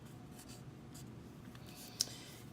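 A pen writes by hand on paper, a faint, soft scratching with a few brief strokes and one sharper tap, quiet and close with no talking.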